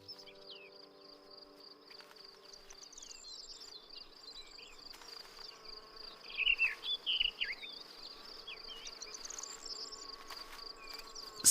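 Insects around spring flowers fill the air with a faint, steady chirring and buzzing, with soft bird calls scattered over the top and a brief louder flurry midway.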